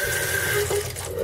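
Boiling water poured from a kettle into a clean glass jar, a steady close splashing pour that fills the jar for the whole moment with no talk.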